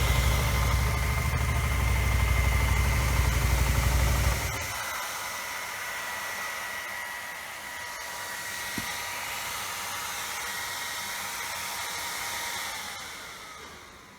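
The radiator cooling fan on a Suzuki Gixxer 250 motorcycle whirs loudly and steadily for about four seconds, then cuts off, leaving a quieter engine hum that fades toward the end.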